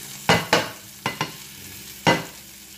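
Garlic and capers frying in a pan as it is rolled around, a low background sizzle broken by five sharp close bursts of spatter or pan contact, the middle two in quick succession, no speech.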